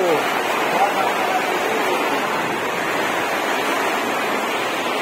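Water pours steadily through a hole into a flooded room, a continuous dense rushing and splashing wash, loud and close, with no pauses.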